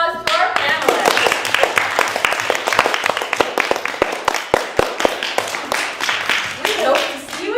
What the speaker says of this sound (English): Let's give a great round of applause to our panelists.